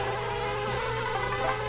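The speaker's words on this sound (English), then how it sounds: "trying to avoid these bees" Bees buzzing in the Banjo-Kazooie video game, a continuous droning, insect-like hum with layered tones, steady and close throughout.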